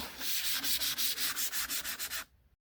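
Sandpaper being worked back and forth over a yellowed car headlight, around fifteen quick, even rasping strokes up close before stopping abruptly.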